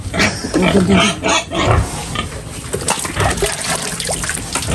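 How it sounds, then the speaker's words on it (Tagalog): Pigs kept for sale on a farm grunt and oink loudly and close by, with squeals and snorts over trickling water, continuing without a break through the whole stretch. "Mga gusto pong bumili ng baboy, ito po, for sale."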